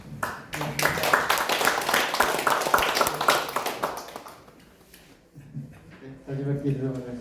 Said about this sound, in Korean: 교수님을 큰 박수로 모시겠습니다.